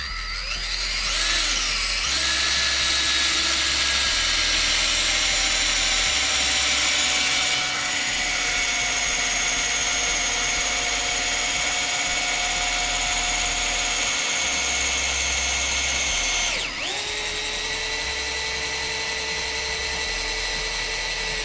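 Power drill driving a 14-inch GRK LPS log panel screw into timber, a loud steady whirring motor drone that holds for about fifteen seconds, shifts pitch briefly near the end, then continues.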